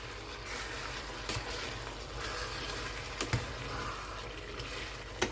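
Gizzards and onions sautéing in a pan for a Cameroonian dish, a steady low frying hiss and crackle with a few sharper pops and stirring knocks, fairly quiet and close.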